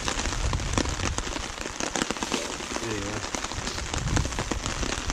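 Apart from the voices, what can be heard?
rain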